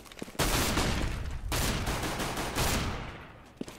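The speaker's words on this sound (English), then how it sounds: "Shotgun." Shotgun blasts in the tactical shooter CS:GO during a competitive match, a sustained dense barrage of loud gunfire with a sharp onset and a few isolated shots near the end.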